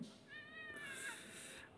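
A cat meows on a television in the video game Thimbleweed Park, one clear drawn-out meow that rises and then falls, fairly loud over a faint background hum.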